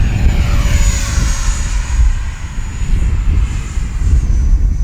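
A Freewing F-35 70mm electric ducted-fan RC jet on its maiden flight passes overhead with a loud, steady rushing roar and a thin high whine that swells slightly as it goes by, with no talking.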